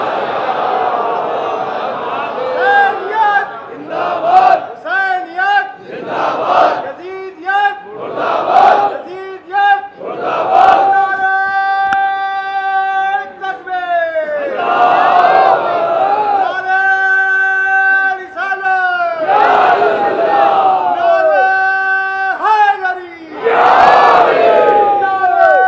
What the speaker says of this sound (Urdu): ایک صلوات بلند آواز سے بر محمد و آل محمد۔